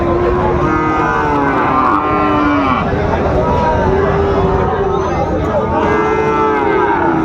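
Sahiwal bull calves mooing at a busy cattle market in Dinajpur, with repeated drawn-out lowing calls rising over a constant crowd hubbub and nearby chatter.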